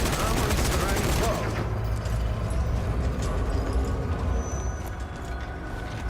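Sustained automatic gunfire from a machine gun emptying its magazine in the video game Zombie Army 4, set in zombie-filled Venice, loud and dense throughout with rapid continuous shots over game background noise.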